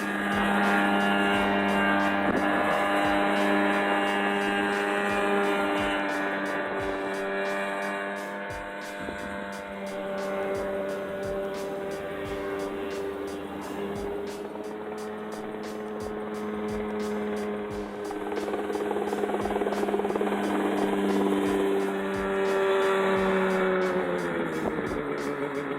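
A homemade Mosquito-model aircraft with an air-cooled 50 hp Rotax 503 DCDI engine drones with a steady, buzzing note that rises and falls slightly over a long stretch.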